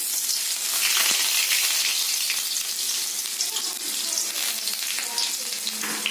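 Onions fry loudly in hot oil in a kadai (wok), a dense, continuous sizzle and crackle close by, with no pause throughout.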